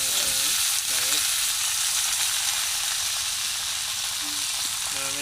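Potatoes frying in oil in a wok give a steady, loud broadband sizzle throughout, with brief tonal bits of a voice or background sound near the start and end.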